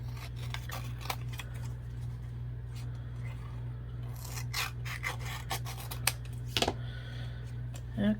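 Scissors trim the edge of a playing card for a junk-journal craft. A close series of sharp snips and rasping cuts sits over a steady low hum.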